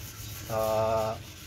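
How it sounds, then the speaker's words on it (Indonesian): A short burst of rough, scratchy rubbing from hand sanding with sandpaper across a surface, rising for about half a second and then stopping. "penghalusan badan menggunakan amplas ya"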